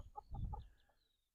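Chickens cluck in a fenced orchard of fruit trees, including a Braeburn apple tree, giving a few short, close clucks in quick succession before fading to quiet, with faint birdsong above.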